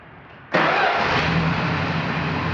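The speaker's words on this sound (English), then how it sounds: "This is not a cold start because I just drove it home from the store, but it's a start nonetheless." A warm 1969 Plymouth Valiant Signet four-door with the 225 Slant Six engine starts after about half a second of quiet, catching at once and then settling into a loud, steady idle.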